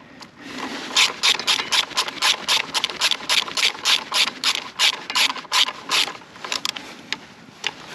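Small screws are driven into a Royal Enfield Himalayan motorcycle brake, giving a close run of quick scratchy ratcheting clicks in bursts, with brief pauses between turns and no talking.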